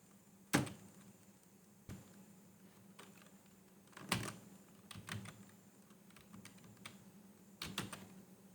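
Typing on a computer keyboard at a desk, a quiet room with a faint steady hum, scattered key presses with a few sharper, louder clacks spread over eight seconds.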